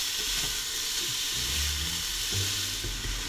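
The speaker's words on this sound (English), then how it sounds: "I've cut the minced meat into small little pieces, and I keep doing so while frying it slowly" Steady sizzling of minced meat frying in a hot pan for bolognese, a continuous crackling hiss with occasional low scraping from stirring.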